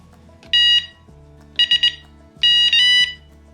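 A JRC Radar XTX fishing bite alarm receiver sounds three bursts of shrill electronic multi-tone beeping, each lasting under a second, over a quiet background hum.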